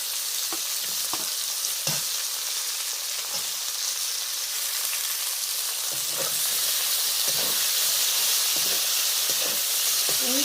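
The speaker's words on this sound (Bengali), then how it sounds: "এই পর্যায়ে আমি পেঁয়াজ, টমেটো, কাঁচা লঙ্কা সব কিছু দিয়ে দিলাম।" Onion, tomato and green chilli sizzle and crackle steadily in hot oil in a pan, with occasional stirring clatters and a constant bright frying hiss, close and fairly loud with no talk.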